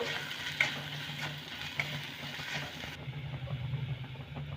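Turmeric frying with onion, ginger and garlic in a pan, a steady close sizzle with occasional light scrapes of a stirring spoon and a low hum underneath.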